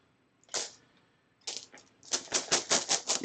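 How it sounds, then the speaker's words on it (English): Game dice for the Stuffed Fables board game rattle and clatter inside a bag, first in two short separate shakes, then in a quick run of rhythmic bursts, close and fairly loud. "Then we get to add all these dice back into the bag."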